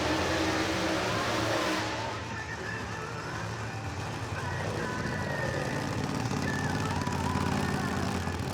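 A ProCharger supercharged drag race car engine comes to life and revs steadily at a drag strip, a loud, continuous roar with rising and falling pitch and a broad mechanical rush.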